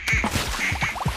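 A duck quacking sound effect on a French radio show, a rapid string of short, nasal quacks, close and clear, with no talk over it.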